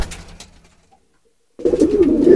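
A powerful male Mukhi-breed pigeon coos in a loft while circling, a strong close call opening the moment, a near-silent pause, then a louder, sustained round of cooing resuming at the end.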